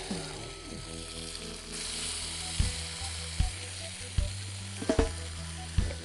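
Salmon sizzles steadily in a hot pan, a close crackling hiss with occasional sharp taps and scrapes of a utensil.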